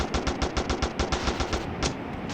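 Rapid bursts of automatic gunfire from a gangster crime video game, a steady rattling stream of about a dozen close, loud shots followed by a single later shot, with no talking.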